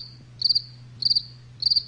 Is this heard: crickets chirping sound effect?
yes